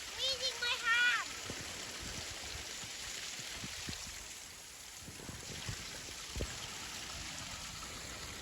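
Water from the terraces above pours down on an off-grid Portugal homestead, a steady low hiss of flow running throughout, with faint voices early on.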